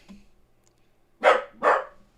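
A dog barks twice in quick succession at a FedEx delivery man, two sharp, fairly close barks after a near-silent pause, with only faint background noise.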